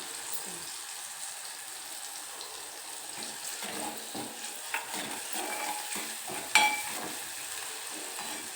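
Putnala (roasted split chickpeas) tossed with turmeric and chili powder in a pan, giving a faint, steady frying hiss with scattered stirring scrapes and a few brief clinks throughout.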